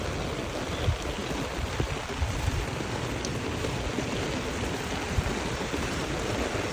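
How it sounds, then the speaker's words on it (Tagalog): Heavy morning rain growing stronger outdoors, a dense, continuous broadband roar of downpour close by, steady and loud with no other sounds above it. "Yan, lumalakas na yung ulan."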